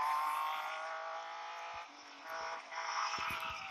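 A BMW 1 Series M Coupe drifting in the mobile racing game Real Racing 3, its steady engine drone holding a high sustained pitch with brief dips, fairly quiet and heard alone.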